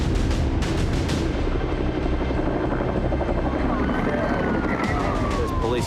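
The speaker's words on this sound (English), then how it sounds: "Pole Air is the police search and rescue helicopter." A police search and rescue helicopter's rotor thuds loudly and steadily overhead at Bondi Beach, with a siren wailing faintly in the background.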